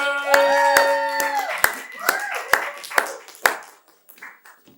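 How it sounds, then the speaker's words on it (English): Audience members at a live late-night talk show clap in sharp, evenly spaced single claps, fairly close, over fading musical tones that die away into quiet. "get the round of applause going"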